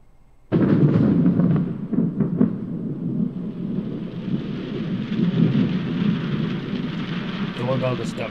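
Heavy rain and thunder play from a doorbell camera recording: a sudden loud crack opens into a steady downpour with rolling rumble, and a person talks over it.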